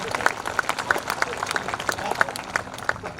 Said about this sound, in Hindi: तालियां अभी भी कमजोर है आपकी।